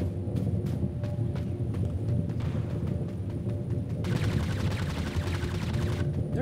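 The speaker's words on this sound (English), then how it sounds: "They're definitely shooting." Gunfire in Totally Accurate Battlegrounds crackles as a steady run of sharp shots at moderate distance, with a denser stretch of rapid fire midway over continuous game noise.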